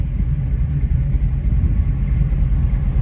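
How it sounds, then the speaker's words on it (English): A 1968 Chevrolet Camaro SS convertible driving on a Kentucky road, its engine giving a steady deep rumble with road noise, loud and close throughout. "we're gonna take this Camaro for a test drive and see how it does"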